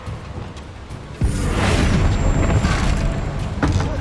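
The Confringo blasting spell in Hogwarts Legacy bursts with a sudden loud boom, then a sustained rumbling roar and a second sharp impact near the end.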